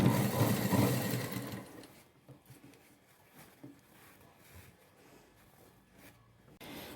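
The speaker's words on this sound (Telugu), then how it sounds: "ఇలా కరెక్ట్గా లైనింగ్ పీస్ పైకి కనిపించకుండా కింద వైపుకి నీట్గా అడ్జస్ట్ చేసుకుంటూ స్టిచ్ వేసుకుందామండి" Sewing machine stitching the neck lining of a blouse, a loud rapid whirring run for about two seconds that then stops, leaving faint handling noises and brief soft taps.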